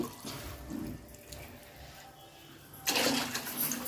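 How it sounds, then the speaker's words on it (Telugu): Water poured into a cooking pot for chicken mandi rice, a soft running splash that swells louder and brighter near the end, heard alone without talk. "వాటర్ పోసుకుంటున్నా"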